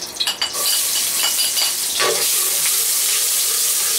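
Onion hitting hot oil in a pan for Bicol-style dinuguan, a few quick clatters at first, then a sudden strong sizzle that holds as a steady close hiss; no one speaks.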